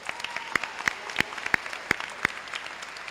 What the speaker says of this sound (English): That also deserves a round of applause.